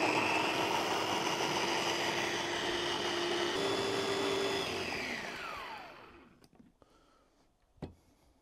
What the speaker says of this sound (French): Alors, première fois que j'utilise ce mixeur.